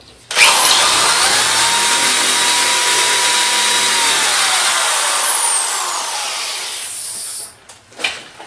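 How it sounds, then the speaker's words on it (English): A power drill whines steadily at high pitch for several seconds drilling through a Medeco high-security lock, then winds down and stops, followed by a short clunk. "And we're going to drill through there again."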